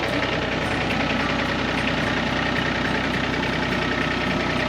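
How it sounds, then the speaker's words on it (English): A tractor engine idles steadily and loudly up close, a continuous low rumble with a faint rhythmic knock and no pauses. "our favorite neighbor's back in town with his tractor here"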